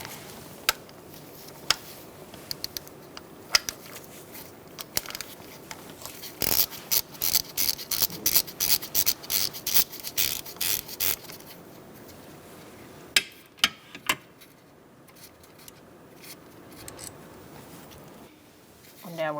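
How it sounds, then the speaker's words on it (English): A ratchet on a 10mm socket unbolting an ignition coil in a 2012-2017 Hyundai Accent 1.6L four-cylinder: scattered sharp clicks, then a fast run of ratcheting clicks in the middle, and a few more near the end, close up, with a person talking at times. "Then you're going to use a 10mm socket and unbolt"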